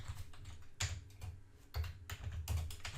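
Fingers typing code on a computer keyboard, close and clear, with quick bursts of clicking keys separated by short pauses.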